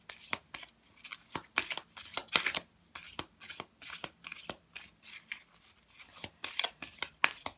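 Oracle cards are shuffled by hand, producing a steady run of soft riffling flutters and crisp snaps repeating about twice a second, close and fairly quiet.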